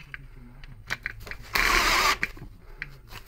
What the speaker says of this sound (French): Maintenant, je remets la douille de 10 et je peux serrer.